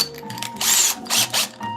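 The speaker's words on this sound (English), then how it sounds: "So what I'm doing now is I'm going to take my drill," A power drill runs at low speed in short bursts, several loud whirring spurts with brief pauses between them, close by and with no speech.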